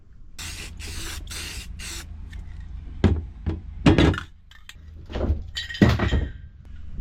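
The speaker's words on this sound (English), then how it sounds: "normally spraying clear over rust isn't the ideal way to do things" Several short hisses from a spray can of clear coat onto a rusty old saw blade in quick succession, followed by clicks, knocks and a few longer sprays, close up with no talking.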